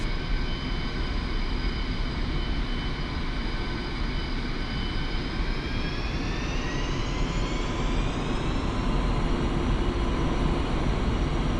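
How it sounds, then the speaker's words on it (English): Twin jet engines spooling up to full takeoff thrust in the DCS flight simulator, a steady loud roar with whining tones that rise in pitch midway and keep building to the end, with no voices. "increase thrust of both engines to maximum"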